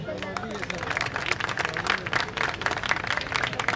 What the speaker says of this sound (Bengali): এবার হাততালিটা খুব জোরে